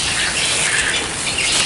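Light drizzle falls outdoors on a muddy path near coconut trees, a steady close hiss of rain with faint bird calls behind it and no voices.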